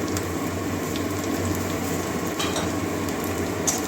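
Chopped ginger and garlic sizzle in a pan, a steady close fizzing with faint stirring and utensil clinks, no voices.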